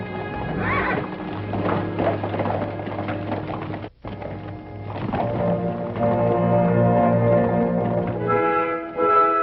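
Several horses clip-clop steadily on a trail, hooves close and loud, with neighs and whinnies rising over the hoofbeats and a brief pause partway through.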